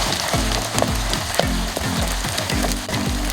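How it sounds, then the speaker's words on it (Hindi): Mashed potatoes fry in ghee over a medium flame for aloo halwa, giving a steady, close sizzle with crackles and occasional stirring scrapes. "घी के अंदर आप आलू की जितनी अच्छे से भुनाई करेंगे"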